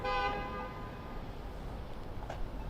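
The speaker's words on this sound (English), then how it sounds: "What are we honking about?" A car horn honks once, loud and fairly close, in downtown Minneapolis traffic, its harmonic blare fading into a steady rumble of street and engine noise.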